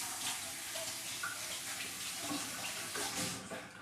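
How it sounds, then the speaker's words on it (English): Running tap water rinsing hands at a kitchen sink after handling cauliflower, a steady close broadband splash and hiss lasting throughout without speech. "I'm going to rinse my hands off"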